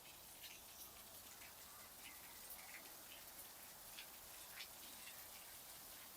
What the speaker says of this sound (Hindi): देखिए जोरों से बारिश हो रही है, आवाज़ आ रही होगी।